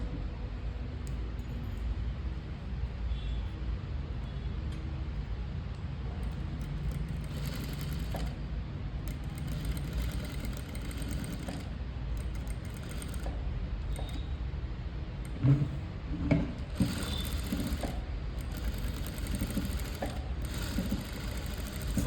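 A sewing machine runs steadily, stitching a design on the back of a boat neck blouse, with a continuous low mechanical whir and faint ticking held close throughout.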